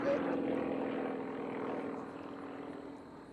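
A Sukhoi SU-26 aerobatic plane flies a maneuver at a US Nationals Unlimited aerobatics competition, its propeller engine a steady, rough, distant drone that holds and then slowly fades a little.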